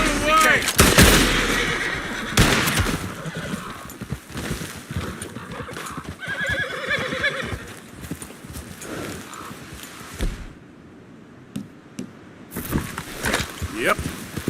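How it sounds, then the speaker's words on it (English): Several gunshots ring out in Red Dead Redemption 2, sharp loud cracks scattered among hoofbeats and game noise, while someone talks over the action. "I'll shoot you out of the way!"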